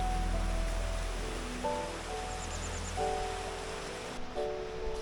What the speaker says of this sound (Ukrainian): Через село протікає бурхлива річка Чорний Черемош.